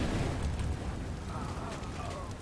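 Fire from an incendiary grenade in a video game, a dense continuous roaring rush with low rumbling crackle, loud and steady throughout.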